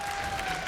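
A League of Legends esports arena crowd at an LEC match, heard as a brief burst of cheering and applause.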